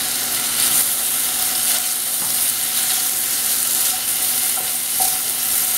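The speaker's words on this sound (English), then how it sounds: "We're just going to keep sauteing these mushrooms." Mushrooms sauteing in a little oil in a pan over lowered heat, giving a steady, even sizzle with faint crackles throughout and no voices.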